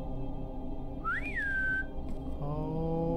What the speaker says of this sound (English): That whistling.